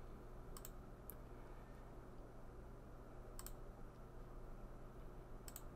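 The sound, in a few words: computer mouse clicks in Open Dental software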